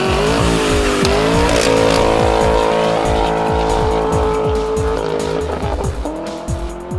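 A 2019 Chevrolet 1500 RST pickup with a FloPro true dual exhaust and K&N cold air intake, a loud exhaust note with repeated quick rev bursts and shifting pitch, alone without talk.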